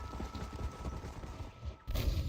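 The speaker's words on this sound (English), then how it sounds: "I'm like not in control of my horse." Horse hooves clip-clop in the Red Dead Redemption video game, a muffled, busy rhythm of thuds under a constant ambient wash, cutting out briefly before resuming.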